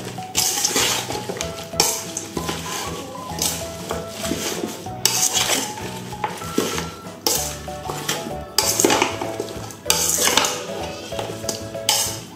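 Chilies being stirred and mixed into a catfish mixture in a pot, with steady scraping, clinking and rubbing strokes repeating in bursts throughout, close and fairly loud with no talking.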